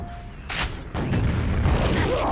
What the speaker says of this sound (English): Oh, nice little grenade there.